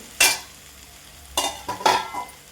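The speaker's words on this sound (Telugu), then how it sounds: "ఇప్పుడు ఒకసారి కలుపుకోవాలి." Egg dum biryani with fried eggs and coriander is stirred in a pot, giving three close scraping, clattering strokes with a light sizzle, separated by short pauses.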